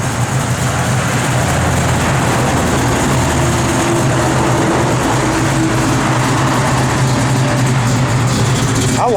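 A 1968 Chevrolet Malibu with an aggressive cam, running on pump gas, idles in a loud, steady rumble that stays close and constant throughout, with no talking over it.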